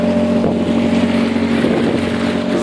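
A Nissan Marine 9.8 hp outboard motor drives a boat with a loud, continuous drone, mixed with wind buffeting the microphone.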